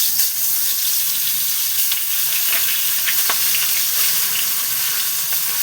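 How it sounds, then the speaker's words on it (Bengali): Fish frying in hot oil in a wok, giving a steady, loud sizzle with no pause, broken by a few soft scrapes and pops. "এইবার আমি তেলে দেখো মাছ দিয়ে দিচ্ছি।"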